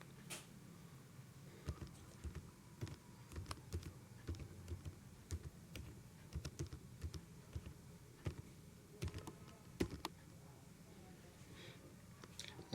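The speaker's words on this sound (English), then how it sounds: "Then type your GST number." Someone types on a computer keyboard entering a GST number in Tally Prime accounting software: quiet, irregular key clicks in short bursts, close and faint over a low room hum.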